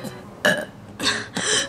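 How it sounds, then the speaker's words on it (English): Three loud, close burps follow one another in quick succession, each a short guttural belch, with brief silence between them and no talk over them. "Ooh, that's a strong burp!"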